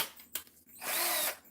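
A power drill pre-drills holes for drywall screws in a mirrored ottoman craft build, giving one steady, loud whir of about half a second after a few brief knocks, close by and alone.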